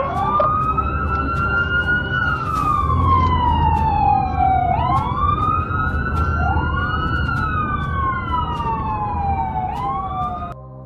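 Wailing emergency siren of a stolen ambulance, rising and falling in long sweeps over a steady traffic rumble, loud and continuous throughout.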